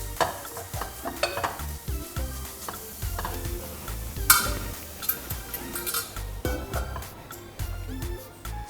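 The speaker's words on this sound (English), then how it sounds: "So it's been about 3 minutes of the tuna sizzling in there." Tuna sizzles in a Saladmaster pan cooked without oil, a crackling hiss broken by clicks and scrapes of stirring utensils against the pan, fairly close and with no talk.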